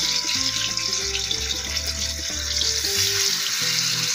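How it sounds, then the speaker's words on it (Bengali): A whole tilapia fries in hot oil over medium heat, giving a steady, close sizzling hiss that runs throughout, with tonal background music playing on top. "তেলটা গরম হয়ে আসছে, চুলাটা মিডিয়াম আঁচে রেখে মাছটা ভাজতে হবে"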